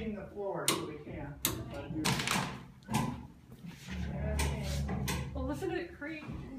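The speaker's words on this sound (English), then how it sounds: "Well, listen to it creak." A boat hull creaks and knocks as it is rolled over and turned on the floor, with irregular wooden-sounding thumps and groans mixed in with people talking.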